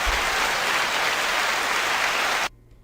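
A crowd gives a full, dense burst of applause at a hip hop discussion event, loud and continuous for about two and a half seconds before cutting off abruptly into near silence.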